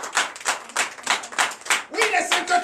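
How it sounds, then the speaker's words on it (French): A church congregation at a Sunday service in Comè, Benin claps together in a loud, steady rhythm of sharp claps, with a voice joining over the clapping near the end. "Donnez l'acclamation au Seigneur Jésus."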